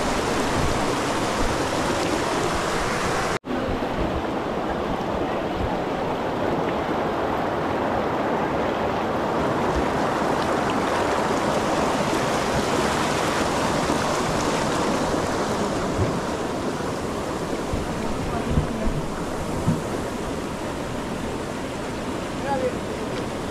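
River water near Baba Dhansar, close to Katra in Jammu, rushes in a steady, full broadband roar that holds without break throughout, with no talk over it.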